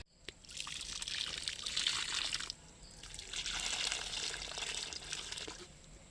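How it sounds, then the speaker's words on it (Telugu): Water is poured onto tomato plant cuttings in two close, gentle trickling bursts separated by a brief pause, soft and steady, with no talking. "వాటర్ వేస్తాను ఉండండి."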